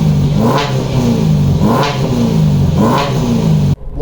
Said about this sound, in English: This exhaust goes loud.